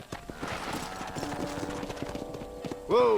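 Horse hooves clip-clopping in a steady trot in the Red Dead video game, ending in a loud, close whinny, with little talk over it.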